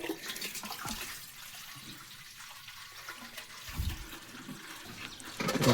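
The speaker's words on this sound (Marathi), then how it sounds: "नळाला पाणी आले पाणी भरायचं चाललंय आपलं." Water runs from a tap while containers are filled at home, a faint, continuous splashing stream with occasional louder gushes and knocks.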